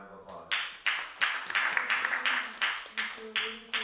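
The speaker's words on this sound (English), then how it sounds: "Give them another round of applause." Audience at a sound-art performance and discussion giving a round of applause, uneven and fairly sparse clapping close by, with speech mixed in underneath.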